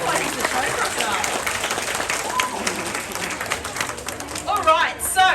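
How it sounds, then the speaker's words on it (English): An audience at a Queensland crocodile show gives a sustained round of applause, dense and fairly loud throughout, with some louder crowd noise and a brief voice near the end. "give him a round of applause, guys"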